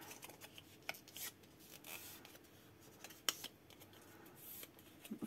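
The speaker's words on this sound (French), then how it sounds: "ce qu'on va venir faire, eh bien, c'est marquer nos plis" Paper for a handmade album is creased into folds, giving quiet, close rubbing and scraping strokes with occasional crisp taps and rustles at an uneven pace.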